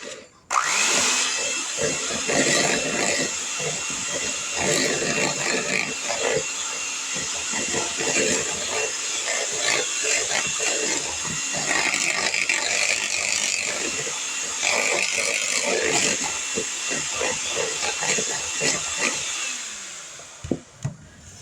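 An electric mixer whirs steadily through chocolate-covered cherry filling, a loud continuous motor drone with rattling variations that runs nearly the whole time before cutting off near the end.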